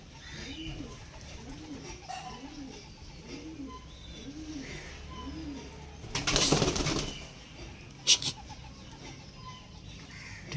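Soft, repeated cooing of Madras pigeons pulses in a steady rhythm, fairly faint, followed by a louder rustling burst and a sharp knock.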